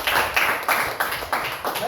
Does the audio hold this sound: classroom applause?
yes